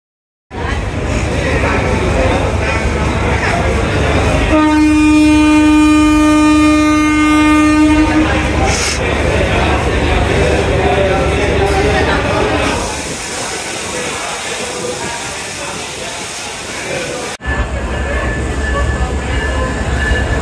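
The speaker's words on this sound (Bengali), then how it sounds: "রাজশাহী যাবার ট্রেন চলে আসছে" A train bound for Rajshahi pulls into a station, its loud sustained horn blaring for several seconds over the continuous rumble and clatter of rolling wagons, close and dominant throughout.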